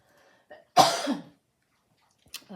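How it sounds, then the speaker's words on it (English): A single harsh cough breaks a quiet pause, loud and close, followed by a brief breath and the start of speech. "Sorry, I'm going to cough again."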